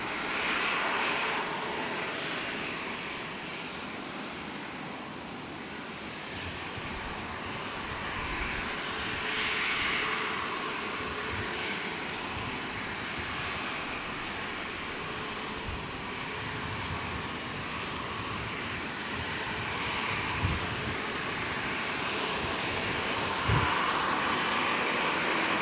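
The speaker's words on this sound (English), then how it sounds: "Jetstar 753 rolling now." Jetstar airliner rolling for takeoff at Brisbane International Airport, its engines giving a steady, broad roar that holds fairly evenly at a moderate distance for the whole stretch, with no voices.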